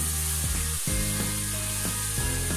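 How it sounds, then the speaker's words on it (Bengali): Ground spices stir-frying in a pan for a Bengali gojar fish moloida curry. A steady close sizzle is broken by rhythmic scraping strokes of a spatula, with no one talking. "সবগুলো গুঁড়ো মশলা দিয়ে আমি কষিয়ে নিচ্ছি ভালোভাবে মশলাটাকে"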